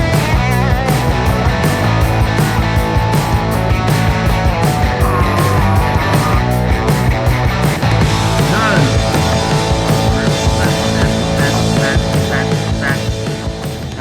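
Electric guitar solo played through Logic amp and cabinet simulations over a full band backing track, loud and continuous throughout with no talking.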